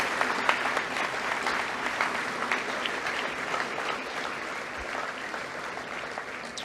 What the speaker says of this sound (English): Please give the college swim team a round of applause.